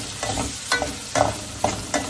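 Onions and ginger garlic paste sizzle and fry in a pan, a steady hiss broken by several quick stirring scrapes, close and loud with no talk.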